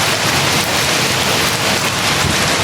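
Heavy rain pours down in a dense, steady roar, loud and close, with no pauses.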